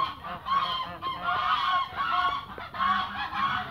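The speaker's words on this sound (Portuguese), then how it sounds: "Os gansos caipira fazendo zoada" Brown Sinaleiro geese honk repeatedly in a noisy, overlapping chorus, loud and close, with nasal calls coming in quick bursts.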